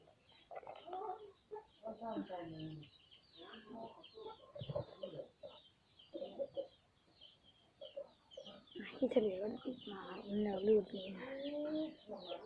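A fighting rooster clucks and stirs while being handled, its calls mixed in with someone talking close by through most of the stretch.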